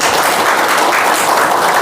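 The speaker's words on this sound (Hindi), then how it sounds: "तालियों से" Enthusiastic crowd applause at a pensioners' welfare association swearing-in ceremony in Jashpur district, welcoming newly appointed officials; steady dense clapping fills the whole stretch at close range with no talk over it.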